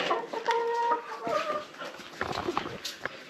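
Chickens on a tropical farm in Panama cluck and squawk in several short, overlapping bursts, fairly near, against quiet farmyard background noise.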